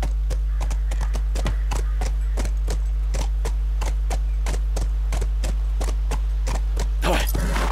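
Horse hooves clip-clop at a steady walking pace in The Last of Us video game, about a dozen even, close hoof strikes over a low constant hum, with a brief louder scuffle near the end.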